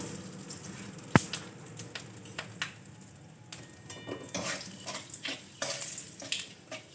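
Bay leaf and whole spices crackle in hot oil left over from frying pointed gourd, a soft sizzle broken by scattered pops and utensil clinks, one sharp knock early on.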